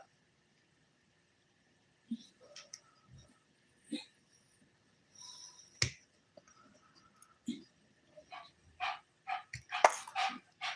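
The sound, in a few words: dogs barking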